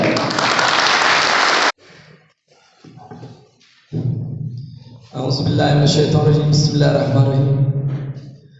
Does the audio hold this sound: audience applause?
yes